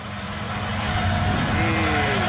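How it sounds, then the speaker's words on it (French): A rally car engine from the PlayStation 2 racing game L1 World Rallye Championship drones with a buzzy, steady hum, its pitch climbing slightly toward the end as the car accelerates. "Les bruitages sont pas trop mauvais, sauf que je trouve que les voitures ont parfois un drôle de bruit."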